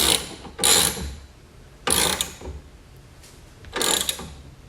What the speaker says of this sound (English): we're using a box or open end wrench. You're going to stick it back here on this nut